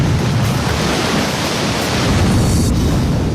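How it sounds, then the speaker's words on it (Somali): A loud, steady roar of rushing water surging and churning without pause, with no voices. "waxaad arkaysaa in mawjadaha biyuhu ay u soo butaaceen dhinaca biyo xireenkii"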